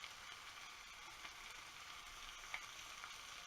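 Minced chicken escalope frying with onions in a pan, a steady soft sizzle with faint crackles and a light stirring tap, close but quiet, no voices.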